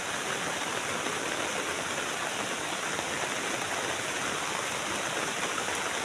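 A stream swollen by rain rushes past in a steady, broadband roar, loud and continuous with no voices over it.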